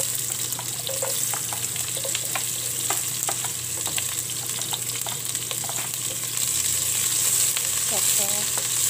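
Crushed garlic frying in a pan for chicken adobo gives a continuous loud sizzle with scattered crackles and a few stirring knocks, growing slightly louder near the end.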